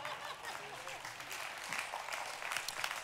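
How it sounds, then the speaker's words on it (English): A church congregation claps during a sermon, a faint but steady wash of many hands clapping with scattered voices mixed in underneath. "That's a good place to clap"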